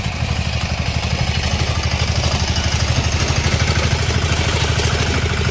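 The small engine of a mini grain-harvesting tractor runs steadily and close by, with a fast, even putter and some mechanical clatter throughout, and no voices.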